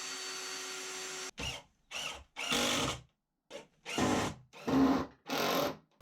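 A power drill drives screws through melamine and a timber backing plate in a series of short, near whirring bursts, each stopping abruptly, after an opening steady hum.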